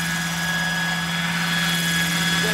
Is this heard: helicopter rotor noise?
yes